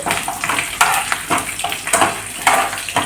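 Coriander seeds and garlic fry in a hot pan with a steady loud sizzle, broken by repeated bursts of stirring and scraping.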